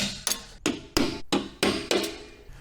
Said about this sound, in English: First thing we're going to have to do is punch out the old rivet stems